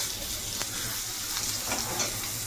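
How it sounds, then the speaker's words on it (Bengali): Eggplant (brinjal) slices fry in a pan, giving a steady close crackling sizzle with soft stirring or scraping touches over a short stretch, and no voices. "বেগুনটা ভেজে নিই।"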